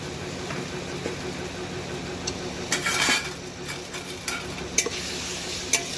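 Ground spice paste fries in a pan for stuffed pointed gourd while a utensil stirs it, a steady sizzle broken by intermittent metallic scrapes and clinks against the pan.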